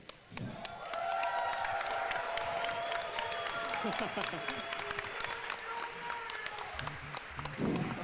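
Live audience at SGDQ 2015 before a Super Mario 64 120-star race, with applause and cheering swelling steadily for several seconds in a large hall, a few whistles and shouts rising above the crowd noise.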